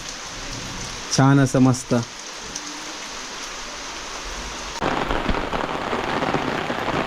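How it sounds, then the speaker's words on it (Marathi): Heavy unseasonal April rain in a Konkan village, a steady hiss of falling water that swells louder and denser partway through, with a brief voice talking early on. "आता बघितलं तर पावसाने एकदम जोरदार हजेरी लावली आहे."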